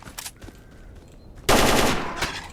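AK rifle gunfire in the S.T.A.L.K.E.R. video game: a quiet stretch breaks into a loud, sustained automatic burst that fills the second half and stays dense until the end.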